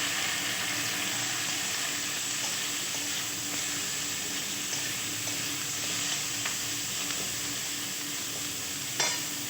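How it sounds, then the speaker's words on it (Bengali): Onions fry in a pan, giving a constant, dense, fairly loud sizzle with faint scattered clicks of stirring and a sharp knock near the end. "পেঁয়াজগুলো ভেজে নিই।"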